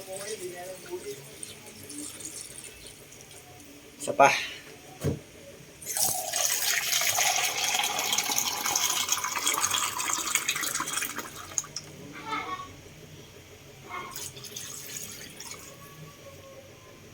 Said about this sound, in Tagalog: Lagyan natin ng tubig mga buko.